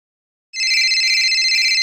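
A phone ringing on an outgoing call, starting abruptly after a short silence and then holding a steady, bright electronic warble for over a second.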